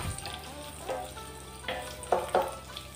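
Garlic cloves frying in hot oil with dried red chilli and whole cumin, a steady sizzle with a few sharper stirring clinks close by.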